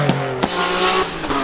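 A Nissan GT-R R32 race car drives hard with a loud, sustained engine drone and quick gear-shift breaks in the tone, close and continuous.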